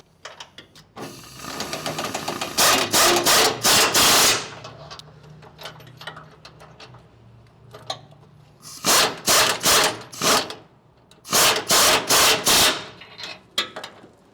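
A 21mm socket wrench ratchets while retightening the bolts on a Ford F250/F350 truck bumper: three close, loud bursts of rapid clicking separated by quieter pauses with faint handling noise.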